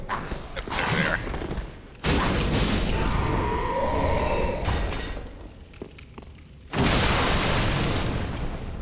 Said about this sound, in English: those are the exploding barrels